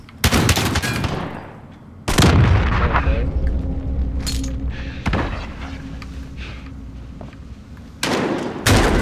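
Rapid gunfire in a video game shooter, pistol and automatic shots in loud, sharp bursts separated by short gaps, with a steady rumble of game noise underneath.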